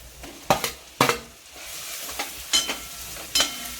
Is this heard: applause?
no